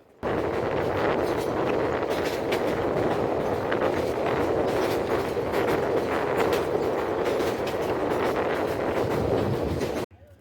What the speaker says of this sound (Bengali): এই মুহূর্তে আমাদের ট্রেন প্রবেশ করলো তার যাত্রাপথের নবম স্টপেজ গচিহাটা রেল স্টেশন